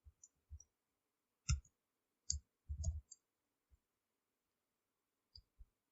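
Sparse, quiet clicks from a computer keyboard as a Google Sheets QUERY function is typed, a few isolated keystrokes and a short cluster scattered over near silence.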